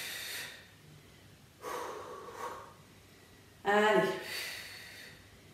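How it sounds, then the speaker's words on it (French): Deep breaths in and out during a home cardio and strength workout, three breathy bursts with the last one loudest and closest, and a short spoken word among them. "Inspire bien et tu souffles"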